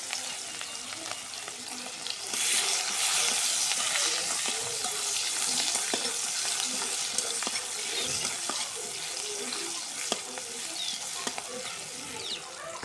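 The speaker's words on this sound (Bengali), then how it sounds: "পেঁয়াজটা আগে ভাজে নিব আমি" Chopped onion frying in hot oil with cinnamon, green cardamom and bay leaf, a steady close sizzle with stirring scrapes and clinks from the pan running throughout.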